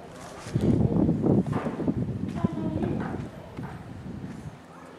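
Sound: horses moving, hooves clip-clopping

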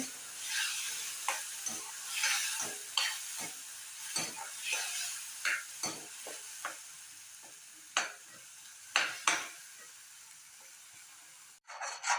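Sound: tomato and onion paste sautéing for mushroom gravy

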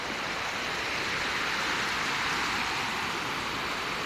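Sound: heavy rain falling

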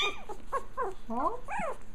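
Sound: puppy growling

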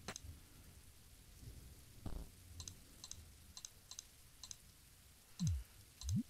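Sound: rain in the video game There Is No Game

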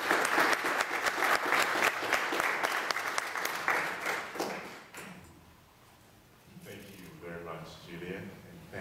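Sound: audience applause welcoming a lecturer

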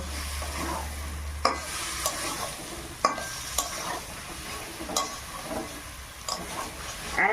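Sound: sautéing boiled potatoes for aloo dum, stirring in pan

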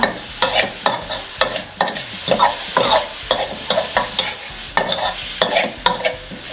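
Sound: stir-frying sugar and preserved radish over low heat

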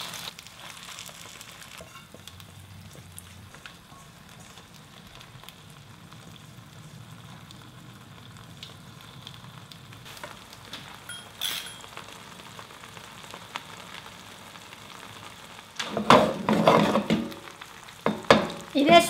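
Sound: perilla leaf pancake frying in oil in a non-stick skillet

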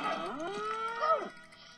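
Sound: cow mooing in the video game Conker's Bad Fur Day

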